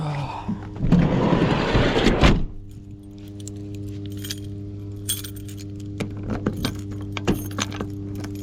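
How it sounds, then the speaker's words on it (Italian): A bunch of keys jangles loudly and close for a couple of seconds, then gives way to a steady engine hum inside a hot car, with a few faint clicks and rattles later. "Le chiavi."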